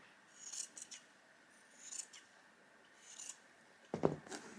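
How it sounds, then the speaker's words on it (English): Scissors cut a rough petal shape out of the tulip pattern material, giving a few short snipping bursts, then a louder, closer snip near the end, with no talking. "I'll cut it out a bit more roughly, cut some of this off."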